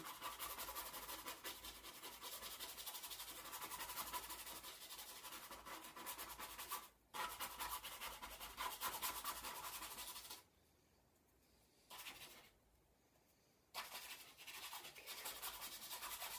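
A paint brush scrubbed on paper gives a steady, close, soft scratchy rasp that runs continuously, broken by a brief gap and then a longer quiet stretch before the scrubbing resumes. No one speaks.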